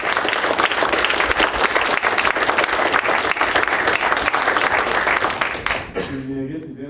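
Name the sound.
audience applause at a press conference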